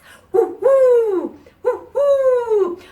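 Owl hoots in a children's song: two drawn-out, falling hoot calls, each introduced by a short lead-in note, loud and close with brief pauses between them.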